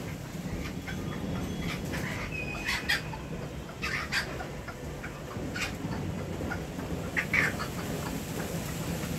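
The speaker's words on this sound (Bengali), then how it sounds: "আমাদের মোরগ মুরগিগুলাতে ঝগড়া লাগতেছে।" Several chickens cluck and squawk in short, irregular bursts over a constant low background rumble, some calls near, others farther off.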